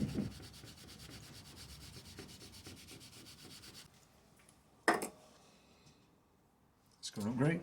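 Stainless steel rubbed by hand with a cleaning pad in a workshop, a steady rhythmic scrubbing for about four seconds, then two short sharp scrapes after a quiet gap.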